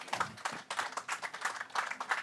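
An audience applauds to welcome a guest at a local investment awards event in Bourges, a moderate crowd clapping in uneven, pulsing bursts that stay fairly close and steady throughout.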